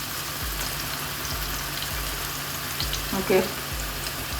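Paneer frying in masala and oil in a pan, a continuous close sizzle with soft periodic stirring scrapes and a brief spoken word near the end.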